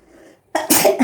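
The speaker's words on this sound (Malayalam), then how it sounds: "തുമ്മൽ വന്നു" A single sharp human sneeze bursts out loud and close after a moment of near silence, with a quick trailing breathy gasp.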